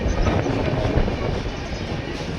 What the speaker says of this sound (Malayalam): നല്ലൊരു കറവിലാണ് ഇപ്പോൾ ട്രെയിനുള്ളത്.